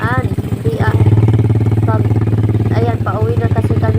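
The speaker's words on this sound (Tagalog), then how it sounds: "kaya dahan-dahan ang pagpatakbo ng motor kasi madulas nga ang daanan" A motorcycle ridden slowly on a slippery, muddy rural road in the rain season, its engine chugging with a loud, steady low throb and rattling clatter, while a person talks over it throughout.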